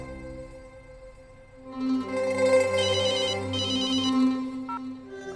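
A telephone rings with a bright repeating electronic trill over a sustained tonal background, loud and close, in two clear bursts. No one speaks.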